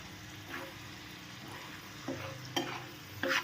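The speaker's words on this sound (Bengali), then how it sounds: "সুন্দর করে কিন্তু এটা কষাতে হবে।" Lemon garlic pomfret masala is stirred and fried in a pan, with a soft sizzle under intermittent scraping strokes that grow more frequent toward the end.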